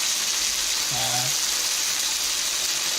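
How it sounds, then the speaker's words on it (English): Steady broadband sizzle of chicken frying in a pan, continuous and close, with a brief faint voice-like tone partway through. "It's sizzling."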